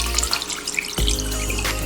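About two cups of water poured from a tap into a bowl holding vinegar for soaking chicken, a short, loud, close splashing stream that shifts in tone partway through.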